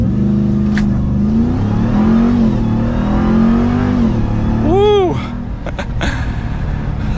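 A 2023 Ram TRX Havoc Edition pickup launching hard under launch control, engine droning loudly then rising through rapid revs and a quick shift around five seconds, heard close from inside the cab.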